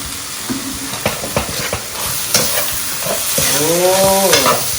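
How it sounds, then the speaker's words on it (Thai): Eggs stir-fried with red pork sizzle busily in a pan while a utensil scrapes and knocks in irregular strokes, and a brief wavering tonal sound rises near the end. "ผัดไข่ใส่หมูแดงครับ"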